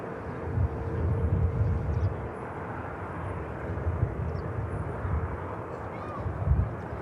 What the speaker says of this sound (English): the Ryanair you can see on the taxi is the flight to Faro